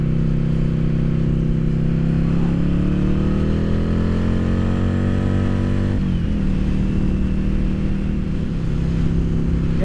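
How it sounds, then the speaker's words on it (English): A Yamaha Virago XV750 motorcycle fitted with a K&N RC-0850 chrome top pod filter runs close by, its engine and intake roaring loud and steady, pitch rising through a rev then dropping back to idle. "You can hear the induction noise a bit better."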